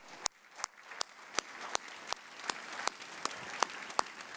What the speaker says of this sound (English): give a round of applause to your parents for supporting you all the way through it